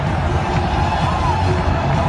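Cricket crowd at an India vs Sri Lanka Asia Cup 2012 match roaring and cheering after a six, a dense, steady wall of stadium noise with shouts and whoops throughout.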